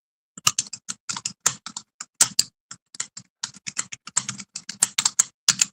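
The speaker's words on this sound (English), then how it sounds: "I'm typing. I'm working." Rapid typing on a computer keyboard, with clear separate keystrokes in an uneven, busy rhythm close to the mic and nothing else in the background.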